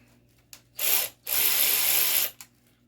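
A Kimo 3/8-inch 12V cordless ratchet spins in two bursts, a short one and then a longer one of about a second, each a loud, close, bright whirring buzz, with faint clicks before and after.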